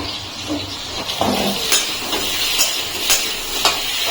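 Potatoes frying in a little oil in a pan for a rohu fish curry, a steady hiss and sizzle broken by occasional stirring scrapes, close and alone with no talk.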